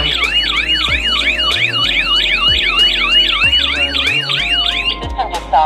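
An Akyoto home alarm system siren goes off, a loud, close electronic wail that sweeps up and down in rapid repeating cycles over a low droning hum.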